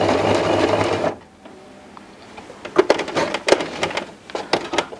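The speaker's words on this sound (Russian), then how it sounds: "При сшивании тресса друг под другом и между собой используем зигзагообразную строчку" A sewing machine runs a zigzag stitch joining rows of hair weft, a loud close whir at first, then after a brief pause a series of short clicking stitch bursts and handling sounds.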